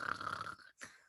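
A reader's voice imitating a father's snoring during a children's bedtime story, one drawn-out nasal snore followed by a short rasping breath, fairly soft and close.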